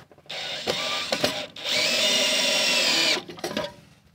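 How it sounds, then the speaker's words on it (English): A power drill bores pilot holes while a breaker box is mounted in a Victorian house. Brief bursts and clicks lead into a sustained close, loud, high-pitched motor whine, followed by a few shorter bursts at the end, with no one talking. "I'm going to go ahead and drill the rest of the pilot holes"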